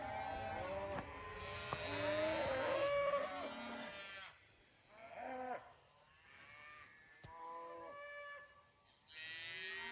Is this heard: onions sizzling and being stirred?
no